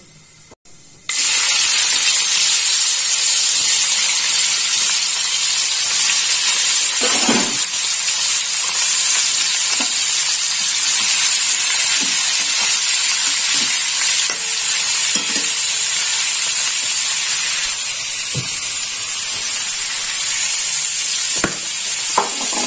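Ash gourd pieces hit hot oil tempering with a loud, steady sizzle that holds the whole time, broken by occasional scraping of a spoon as they are stirred; a brief quieter moment comes first, then the hiss jumps up.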